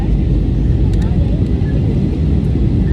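A steady, loud, low roar fills an airplane cabin in flight from Bangalore to Goa, a continuous engine and airflow drone with a faint voice in the background.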